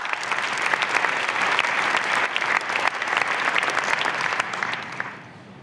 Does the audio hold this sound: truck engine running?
no